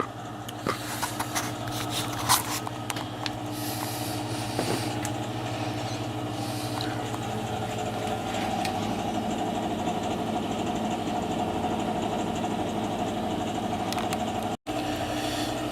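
A heating boiler runs steadily after start-up, a continuous close mechanical hum and rumble with a faint rhythmic knock and a brief click near the end.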